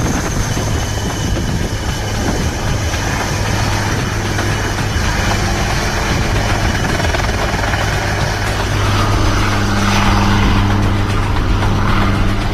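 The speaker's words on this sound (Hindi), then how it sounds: "हेलीकॉप्टर्स दिन की शुरुआत से लेकर दोपहर तक ही ऑपरेट कर सकते हैं।" A steady, continuous engine drone with a low rotor-like hum, loud and unbroken throughout, like a helicopter flying nearby, at the Siachen Glacier.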